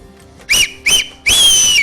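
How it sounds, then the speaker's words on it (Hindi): A person whistling into a microphone on a morning radio show, giving two short sharp bursts followed by a longer sustained shrill whistle, loud and close. "तो सीटियां तो बजा के दिखाओ ना मुझे, जो वहां पे बजाई जा रही थी"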